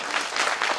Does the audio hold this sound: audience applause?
yes